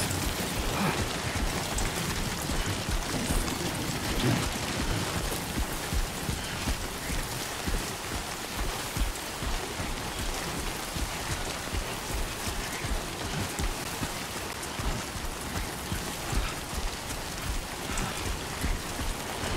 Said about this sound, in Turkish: İyi de bu yağmur.